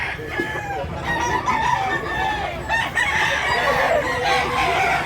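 Several roosters crow repeatedly over steady clucking from a flock of local chickens, loud and close throughout.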